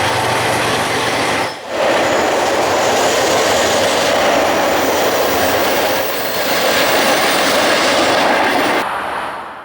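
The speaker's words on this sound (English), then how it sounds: "we're going to be seeing a garbage train rolling by headed southbound with 2 GE motors on the head end" A heavy southbound garbage freight train led by two GE locomotives rumbles past nearby, a steady loud roar of wheels and rail noise that holds for several seconds before easing off at the end.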